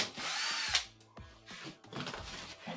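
A power drill whirs briefly to back out a 1/4 inch screw from the control panel of a Maytag, Whirlpool or KitchenAid dishwasher, with a short close spin, a stop, then faint rattling and scraping.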